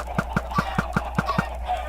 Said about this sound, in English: then I get a bunch more chickens in the shack